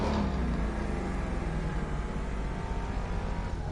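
Ford F-150 SVT Raptor (2010) engine in a PS4 driving game, a steady broadband rumble that holds loud and continuous throughout, with no talk over it.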